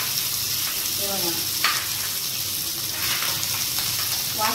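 Small fresh fish fry in a pan while being flipped, a constant loud sizzle with scraping stirs and a few soft clinks, and brief voice traces in the background.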